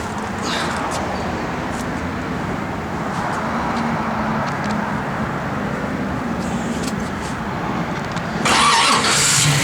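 A 1969 Chevrolet Camaro SS with a mini torque starter runs with a steady, loud rumbling idle heard close, then the engine note thickens and rises near the end.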